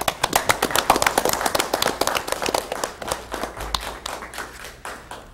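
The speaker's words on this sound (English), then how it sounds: "I think she deserves a round of applause" A small audience at a township council meeting gives a round of applause for a town employee, a sparse rhythmic patter of distinct individual claps that tapers off over a few seconds.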